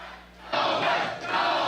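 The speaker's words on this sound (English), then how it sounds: "listen to the crowd. I mean, they are going nuts behind us" Crowd at a Republican political rally roars after a short lull, a sudden loud wall of cheering and shouting that swells, dips briefly and surges again.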